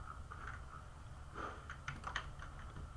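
A computer keyboard is tapped for a Ctrl+V paste shortcut, giving a few soft, close clicks over a quiet room hum.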